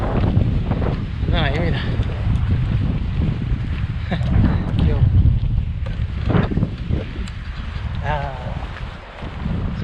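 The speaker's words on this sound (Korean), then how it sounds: "아 바람" Strong gusting wind on a mountain backpacking trail, buffeting the microphone loudly and continuously, with someone speaking intermittently over it.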